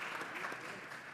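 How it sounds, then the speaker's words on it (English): Applause from an audience at a congressional committee markup session, a short burst of steady, fairly faint clapping lasting about a second with no speech over it. "can applaud."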